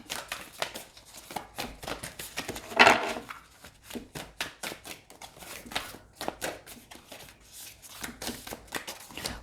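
A deck of tarot cards is shuffled by hand on a table, close and crisp, with repeated riffling bursts and soft slaps in an irregular rhythm, one brief louder flurry near the start.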